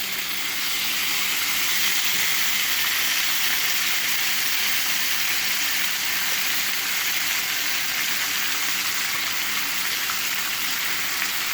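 Steak and potatoes sizzling on a hot griddle, a loud continuous crackling hiss that stays even and unbroken throughout, close up with no voices.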